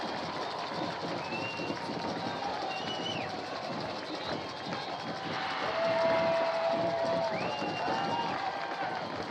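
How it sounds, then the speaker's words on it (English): A football stadium crowd roars steadily on third down at a game in Huntsville, a dense wash of cheering that swells toward the middle, with an announcer talking over it. "Here comes the Indian crowd on 3rd down."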